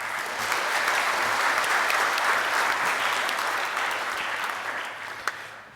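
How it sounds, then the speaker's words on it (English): Sustained applause from the audience greeting the guests on stage at the APNIC42 opening ceremony, a dense, even wash of clapping from a large crowd that fades slightly near the end with one sharp clap. "please give them a round of applause once again"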